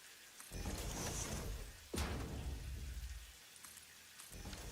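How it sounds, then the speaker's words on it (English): Steady rain pattering across the world of the factory-building game Satisfactory, a broad hiss with a soft whoosh or distant rumble near the middle, continuous and fairly quiet, with no voices. "the rain sound effect is nice"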